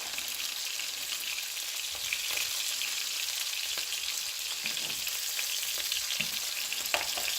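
Slices of beef liver fry in a pan with a dense, even sizzle that runs continuously, punctuated by faint stirring scrapes and small pops toward the end.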